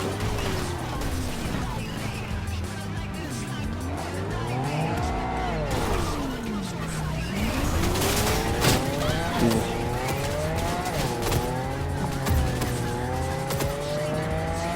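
Car engine revving and shifting pitch while racing in the video game Cyberpunk, with tires squealing on sharp turns; the engine drones steadily and loud throughout, rising and falling in rapid sweeps.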